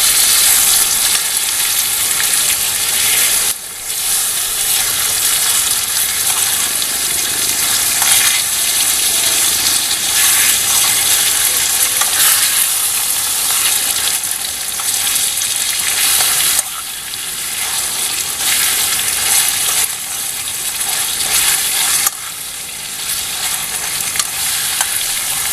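A whole guinea pig frying in a pan in a spicy yellow-spice braise, stirred steadily: a loud, continuous broadband sizzle with scraping stir sounds, close and unbroken for the whole stretch, no talking.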